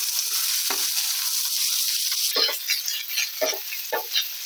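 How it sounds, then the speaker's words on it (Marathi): Onion frying in a pan with oil left from roasting dried coconut, a steady broad sizzle throughout with a few sharp stir or scrape bursts near the end, close and moderately loud. "ह्यामध्येच आपला कांदा पण टाकून घ्यायचा"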